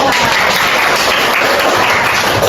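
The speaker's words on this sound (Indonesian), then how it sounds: "terima kasih atas tepuk tangan" Applause from a classroom audience during a lesson on the digestive system, a dense continuous patter of clapping hands heard close and loud without pause.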